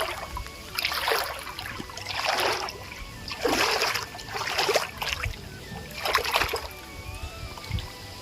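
Someone wades through knee-deep water in a flooded village field. Five or six separate sloshing splashes come at a slow walking rhythm, close by, over a low outdoor background.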